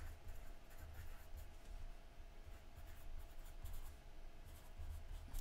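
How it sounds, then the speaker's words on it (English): A note written by hand, steady faint pen scratching on paper running continuously, close and quiet with no talk. "Let's write that one down."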